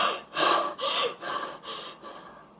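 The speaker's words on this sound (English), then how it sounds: "I started breathing really deeply" A person breathes deeply and heavily in repeated gasping breaths, one after another in a steady rhythm, close and loud at first and then slowly fading, with no talking.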